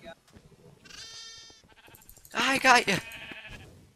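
Sheep bleating in the Minecraft video game, several wavering bleats, one short call early and a louder, closer bleat near the end, mixed with excited talk from players during a sheep-catching mini-game.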